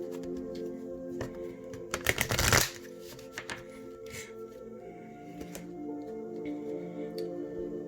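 Self-healing oracle cards shuffled close up, a brief burst of rapid papery riffling followed by softer scattered card flicks and taps against a faint background hum.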